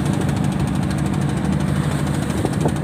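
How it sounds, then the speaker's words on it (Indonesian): Sputtering engine of a small fishing boat heading home, a loud, continuous low chugging drone with uneven knocking pulses, heard up close with no voices. "Mesinnya ngedul-ngedul nih guys"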